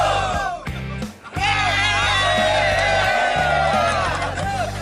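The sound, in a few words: off-road event crowd shouting and cheering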